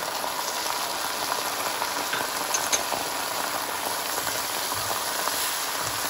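Mushrooms and dry Cabernet red wine sizzle steadily in a pan while sautéing for a beef stew, a dense, even hiss with faint bubbling crackles that holds for the whole stretch, with no talk.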